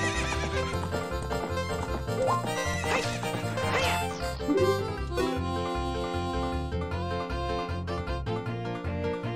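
A horse neighs in the video game Ocarina of Time, with clip-clopping hooves over steady in-game music that plays throughout.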